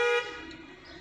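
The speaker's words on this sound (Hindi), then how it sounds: "हॉर्न मारिए" A single short car horn blast, loud and close, followed by a fading tail of traffic noise.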